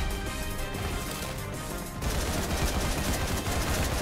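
Dense, continuous rapid-fire weapon blasts from a cannon in the video game Risk of Rain 2, a steady roaring barrage that thickens and grows louder partway through.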